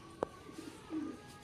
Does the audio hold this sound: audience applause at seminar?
no